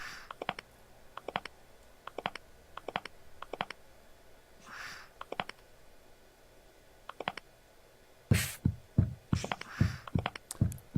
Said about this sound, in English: so that's why you hear my character's heartbeat